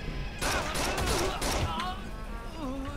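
A burst of rapid gunfire in the video game Rainbow Six Vegas, loud and clustered over the first second, with electronic game sounds continuing faintly afterward.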